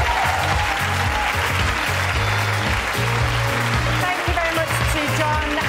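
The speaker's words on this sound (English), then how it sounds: "applause for Daniela" An audience at the Rise Awards 2022 ceremony claps steadily in a dense, sustained round of applause, with tonal music playing underneath.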